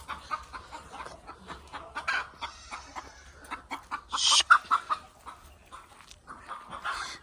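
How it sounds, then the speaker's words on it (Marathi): Hens clucking in short, uneven bursts, fairly close, with one louder squawk partway through and quiet farmyard background, on a goat farm. "चला मित्रांनो कोंबड्या बाहेर गेले त्यांना मला"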